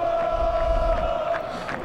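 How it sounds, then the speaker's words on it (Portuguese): A football crowd chanting for Flamengo in the PES video game on PS3, a sustained massed sung chant with a steady held pitch over rumbling stadium noise, loud and continuous. "Quando o Flamengo estiver perdendo, eu quero que a torcida grita"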